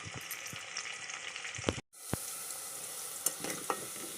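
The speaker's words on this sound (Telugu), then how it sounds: "ఉల్లిపాయలు వాడుకోవాలండి అంటే మరీ ఎర్రంగా కాదు కొంచెం తేలిగ్గా అయ్యేంత వరకు" Sliced onions frying in oil for an eggplant and dried fish curry, with a continuous close sizzle, light stirring scrapes and a brief break in sound partway through.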